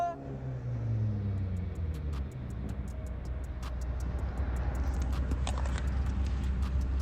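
A car speeding away, engine rumbling low then rising as it accelerates off, with a clicking rattle over the motor noise; fairly close and loud, no talking.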